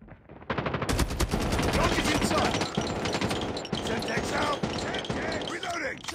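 Rapid, loud bursts of gunfire from Call of Duty Mobile, played on PC through Gameloop, crack in dense repeated volleys with barely a pause, mixed with game voice callouts throughout.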